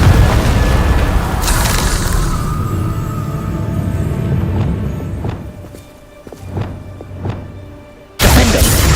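The Confringo blasting spell erupts in Hogwarts Legacy with a loud rumbling burst that decays over several seconds, followed by scattered thuds and knocks, then a second sudden heavy blast near the end.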